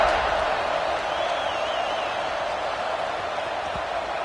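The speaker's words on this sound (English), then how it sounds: "this crowd now ready to get behind them" Stadium crowd at an American football game just before kickoff, a steady broad roar of many voices filling the space, sustained and fairly loud with a faint whistle-like tone drifting through it.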